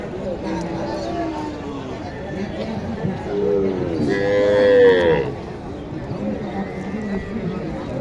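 Cattle moo at a busy cattle market, with a couple of drawn-out calls in the middle over a constant bed of people talking and crowd noise.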